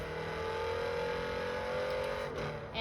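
A Lamborghini Urus SUV with an 8-speed gearbox accelerates, its engine a steady, loud drone heard from inside the cabin that shifts pitch near the end as it pulls on, with no talk over it.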